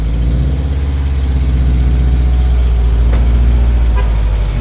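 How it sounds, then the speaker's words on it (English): A Subaru WRX idles close by, its engine holding a steady, loud low rumble with an even pulse for the whole stretch and no voices over it. The car had failed a smog test. "Ooh, car sounds pretty."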